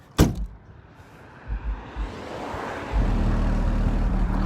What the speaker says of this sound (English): I'm gonna close the tailgate just to see.